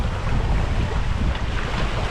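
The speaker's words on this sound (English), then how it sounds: "But boy, is the water rough." Rough water churning and splashing aboard a boat at sea under a constant roar of wind buffeting the microphone, loud and unbroken throughout.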